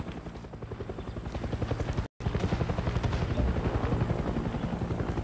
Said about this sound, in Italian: Come ci è venuto l'elicottero?